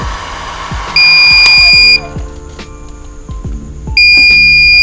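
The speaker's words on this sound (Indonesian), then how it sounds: "Buzzer ini menyala di sekitar 40 lah ya." Arduino buzzer alarm set off by high temperature from a hair dryer, a loud shrill electronic tone sounding in two long bursts with a quieter pause between, over faint background tapping.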